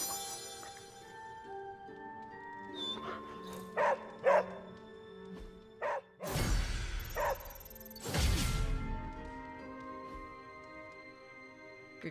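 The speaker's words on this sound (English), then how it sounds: "Must pet puppy." A dog in the Marvel's Midnight Suns video game gives several short barks and yips while being petted, set against sustained game music and a couple of loud whooshing swells.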